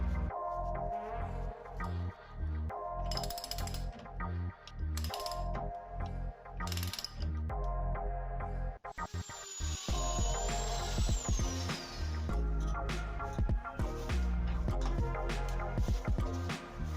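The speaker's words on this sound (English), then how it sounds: "I assembled the frame with a hex head screw." A wooden shed frame is put together with hex head screws, bringing repeated ratcheting clicks and mechanical turning in short bursts, up close, with a brief high whine and busier clattering knocks near the end.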